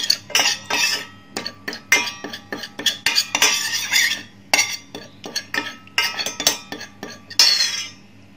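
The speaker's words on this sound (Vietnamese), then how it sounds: "Quấy cho nó tan bột ra đi xong mình sẽ nấu" Baby cereal flour being stirred with a spoon in a bowl to dissolve it, giving a rapid, rhythmic series of close scraping clinks against the bowl that continues steadily throughout.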